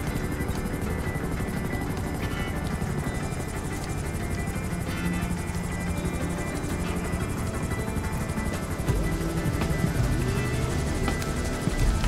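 A military helicopter in the GTA 5 video game drones loudly and steadily with a thick rotor roar, holding near and constant for the whole stretch, slightly swelling toward the end.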